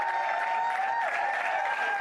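A crowd at a Nepal v Melbourne Renegades cricket match cheers and applauds after a sixth wicket falls, a dense, steady roar of clapping and shouting that holds throughout.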